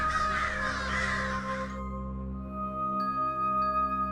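Crows caw loudly and close in a harsh cluster at the start, then fall away, leaving a steady low tonal hum with faint clinks, and no one speaks.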